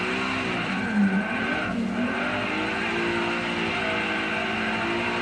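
Car engine and tyres from a drifting session in a racing simulator game, a steady engine drone with harmonic whine shifting pitch as the car slides and changes gear, continuous and fairly loud.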